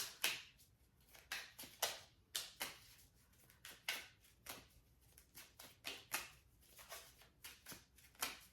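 Prediction cards shuffled by hand in a steady string of crisp riffling bursts, roughly one or two per second, close up with no talking.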